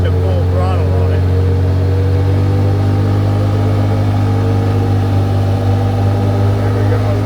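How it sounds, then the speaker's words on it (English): A rebuilt 2015 Polaris Ranger 570 engine runs at full throttle, a loud, steady, close drone with a strong low hum and layered mechanical harmonics that hold for the whole stretch. A faint voice may sit beneath it. "There we go, full throttle. It picks up and it's pulls."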